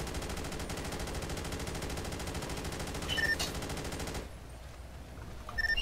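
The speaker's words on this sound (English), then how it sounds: "Shots fired." Rapid automatic gunfire in GTA V during a roleplay police shootout: a dense, continuous burst of shots for about four seconds, then a brief lull before a few more loud shots at the end.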